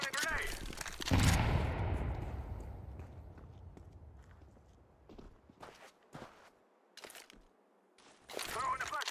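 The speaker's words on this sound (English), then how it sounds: "I'm throwing a grenade." A grenade is thrown in the video game Counter-Strike 2. A loud burst lands near the start, then a long fading rumble follows, with scattered footsteps and short clicks.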